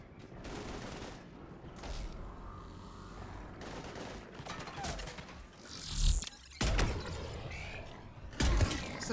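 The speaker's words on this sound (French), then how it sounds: "Ça fait mal, hein, une balle de Valiant." Valiant sniper rifle firing in the video game Mass Effect 3, with sharp loud blasts standing out near the middle and end over a busy mix of combat noise and mechanical clatter.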